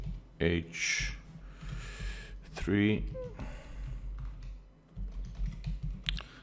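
Keystrokes clatter on a computer keyboard in quick, irregular bursts, close and moderately loud, with breaths and small mouth noises between them.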